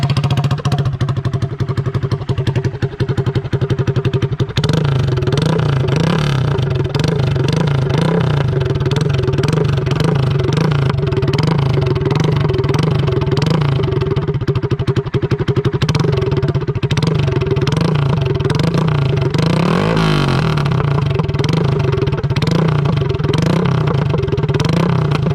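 A 2020 Honda Grom motorcycle engine runs loudly up close with a header-only exhaust, idling with a rough, rapid rattle and rising in a few blips and revs.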